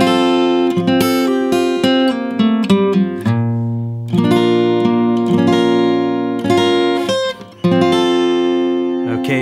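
A dreamy chord melody on guitar, chords and single melody notes picked alone and close, ringing and overlapping in a relaxed, flowing phrase with brief pauses between lines.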